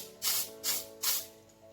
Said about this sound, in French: Et je viens donc ensuite appliquer donc du spray en or sur mes petits capots.